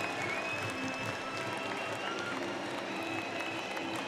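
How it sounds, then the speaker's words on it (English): Ice hockey fans of the Glasgow Clan applaud in an arena, a steady, dense wash of clapping and crowd noise that holds at even strength for the whole stretch, with no clear voices standing out above it. "Lyndon Springer laps up the applause from the Clan fans."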